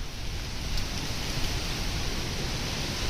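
Strong wind sweeping across a farm ahead of rain, a dense continuous roar that stays loud and steady throughout.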